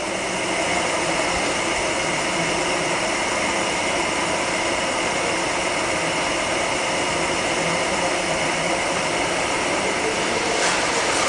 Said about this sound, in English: We're slowing down to our program 500 RPM speed.